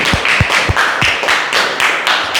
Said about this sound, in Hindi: तो पहले तो एक बार तालियां बजा लो